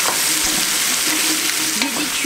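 A large batch of chopped onions softens and fries in a pot, with a loud, continuous sizzle close by and the rasp of stirring running throughout.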